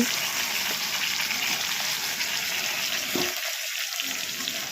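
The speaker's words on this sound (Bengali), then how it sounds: "এখন চিকেনগুলোকে কড়াইতে ঢেলে দেওয়া হবে" Marinated chicken goes into a hot wok, giving a loud, broad, close hiss of sizzling with a short dip partway through before the frying noise returns.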